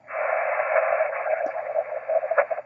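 Radio audio from a second amateur radio rig connected to the same antenna as an IC-7300, heard as a band-limited, crackly transmission playing steadily and fairly loud, with no other voices.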